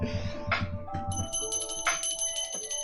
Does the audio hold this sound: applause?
no